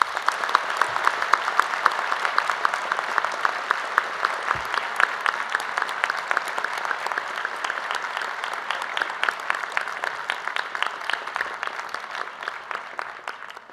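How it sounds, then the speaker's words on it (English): A large audience claps steadily at the NMUN New York 2023 conference opening ceremony, dense continuous applause holding for over ten seconds before thinning slightly toward the end. "Please give them a big round of applause."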